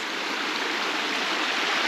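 Steady, broadband rush of a stream flowing through a limestone gorge at Wombeyan, close and continuous with no pauses or voices.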